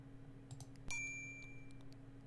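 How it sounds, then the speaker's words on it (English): A single bright ding of a service bell at a counter in the Space Quest 6 adventure game, a clear metallic strike whose ringing tone fades over about a second above a steady background hum. "What happens if we ring the bell?"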